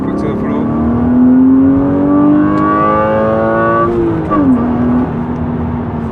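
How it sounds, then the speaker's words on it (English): Interior sound of a BMW 328i E36 accelerating hard in second gear with the throttle floored, its straight-six engine climbing steadily in pitch before a brief drop as revs fall, loud and close. "So again, second gear, foot to the floor."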